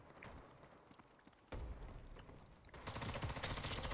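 Gunshots in the GITS video game during a team deathmatch: faint scattered cracks at first, then a louder, denser stretch of distant firing and rumble.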